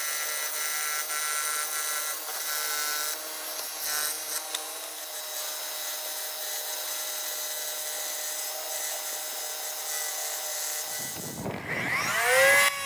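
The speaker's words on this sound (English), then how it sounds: "My scroll saw is used to rough cut the patterns." A scroll saw rough cuts template patterns glued to MDF, a steady buzzing mechanical whine with a continuous tonal hum, close and loud, ending with a sweeping rise as the blade winds down.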